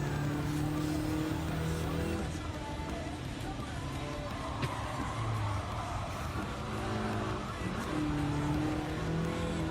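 Racing car engines in the Gran Turismo 7 video game, played in VR, whining and revving through gear changes with tire noise, a continuous loud game soundtrack without audible talk.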